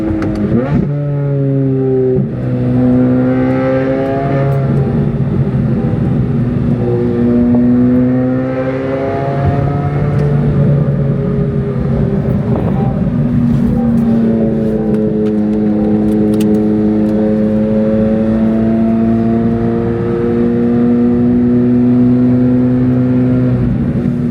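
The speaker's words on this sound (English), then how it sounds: "full track package, test pipes, plus no mufflers, so pretty much a whole straight pipe from the cats all the way back" A C8 Corvette Z06 on the road with a track-package, cat-delete, no-muffler straight-pipe exhaust, loud and close throughout, with a steady high-revving drone that climbs through gears, briefly drops, then pulls again.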